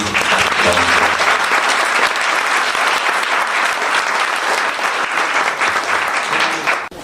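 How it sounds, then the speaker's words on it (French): A conference audience bursts into sustained, dense applause, with many hands clapping steadily for several seconds before it cuts off abruptly. "Je pense qu'on peut les applaudir."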